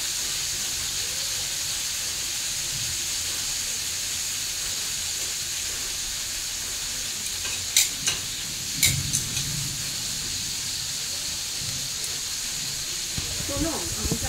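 A hotdog sausage fries in a pan with a steady, close sizzle and hiss throughout, and a few brief clatters of handling near the middle.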